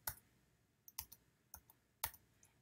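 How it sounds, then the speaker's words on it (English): Four crisp key clicks on a Mac computer keyboard, spaced roughly half a second apart, quiet and close with faint lighter taps between them. "you're going to hold down the Option key and type the vowel."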